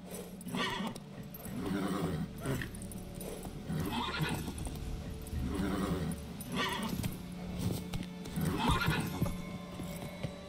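Roach, Geralt's horse in The Witcher 3, neighs repeatedly and gallops, with whinnies recurring every couple of seconds over a quick rhythmic clip-clop of hooves, fairly close and clear.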